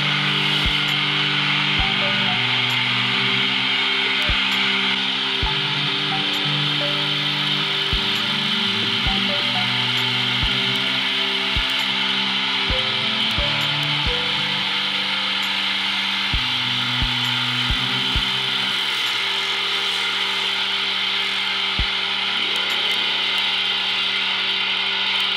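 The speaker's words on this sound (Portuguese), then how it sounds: "a primeira coisa que eu fiz foi lixar o local onde vai pegar primeiro, o finalzinho aqui" Sandpaper rubs against the end of a shoe sole during a half-sole repair, giving a steady, close scraping and rubbing texture with repeated short strokes and a constant hum beneath, with no talking.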